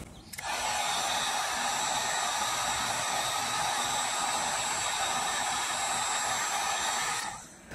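Heat gun set on high shrinking tubing on trailer light wiring, a steady loud blowing hiss that switches on, holds evenly for several seconds, then cuts off.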